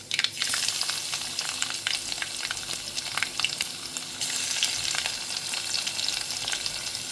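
Garlic frying in hot oil with spluttering cumin seeds, for a Marathi cabbage dish. The sizzle is loud and steady, with crackling pops and a sharp burst when the garlic goes in.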